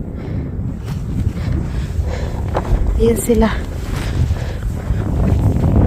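Strong gusty wind buffets the microphone beside a frozen, snow-covered lake, a constant roaring rush with brief speech from a voice partway through.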